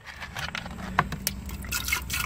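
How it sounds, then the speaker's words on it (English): Sprite soda poured into a container, a steady liquid fill with a bright trickle and small splashy drips, close and fairly quiet, with no talking over it. "let me pour some more in there just to compare."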